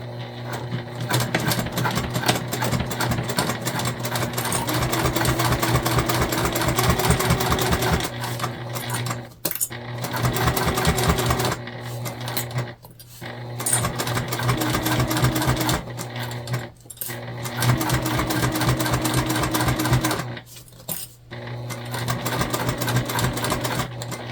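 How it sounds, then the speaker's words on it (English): A sewing machine top stitches along the edge of a tote bag, its rapid needle clatter running loud and close in long continuous bursts broken by brief pauses. "we're just top stitching right down the edge"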